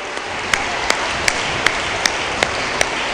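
Audience applause at the closing ceremony of an international young vocalists' competition, a steady dense wash of clapping with a few sharper, evenly spaced accents standing out, no one speaking.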